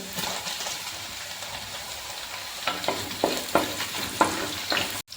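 Sliced ginger, garlic and green chillies hit a hot pan with a bright, steady sizzle, then a run of stirring scrapes and clinks in the later seconds, close and loud, no one talking.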